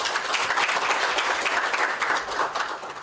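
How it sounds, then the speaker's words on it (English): An audience at a launch event on countering violent extremism claps in sustained applause, a dense, even wash of many hands that holds steady before easing slightly at the end. "Let's give the proper big hand of applause"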